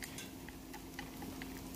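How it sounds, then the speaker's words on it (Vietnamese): Minced garlic fries in hot oil in a pan, a steady, faint sizzle with light crackles and small stirring clicks scattered throughout, heard alone without talk. "Khi mà dầu nóng lên thì mình sẽ cho hết cái phần tỏi băm nè vào để mình phi nha quý vị."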